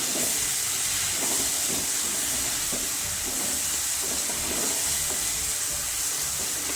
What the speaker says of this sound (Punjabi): ਹੁਣ ਆਪਾਂ ਇਹਦੇ ਵਿੱਚ ਆਲੂ ਪਾ ਦੇਵਾਂਗੇ ਆਲੂ ਪਾ ਕੇ ਮਿਕਸ ਕਰ ਲਵਾਂਗੇ